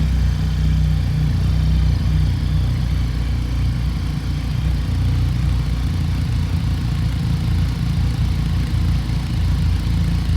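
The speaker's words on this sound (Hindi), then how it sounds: "तो अब मैं सुनाता हूँ इसका एग्जॉस्ट साउंड।" A Benelli TRK 502X motorcycle engine idles steadily and loudly on a cold start, a low, even rumble of exhaust throbbing without change for the whole stretch.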